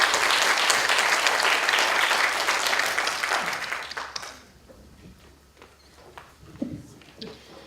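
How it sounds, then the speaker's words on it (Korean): An audience applauds the panelists and presenters at the close of a commemorative event, dense and steady for about four seconds before thinning to a few scattered claps. "세 분 발표자 선생님께 박수 좀 크게 좀 부탁드리겠습니다"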